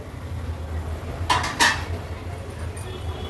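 A metal lid is lifted off a cooking pot where fish thali ingredients simmer, two quick clattering clinks in the middle over a low steady stove hum, nobody speaking.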